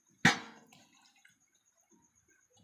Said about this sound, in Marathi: यातमध्ये थोडं थंड पाणी टाकायचं